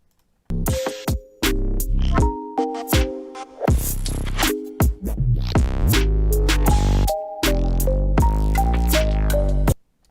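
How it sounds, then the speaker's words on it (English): A bright synth line plays a series of sustained and stabbing notes with a gritty, saturated edge, loud and continuous with brief gaps, no voices. "there's some nice distortion in there"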